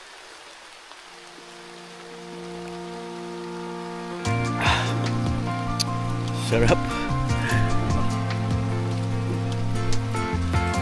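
Steady rain hissing down, building after a few seconds into a dense, close patter on a surface, with someone speaking briefly over it.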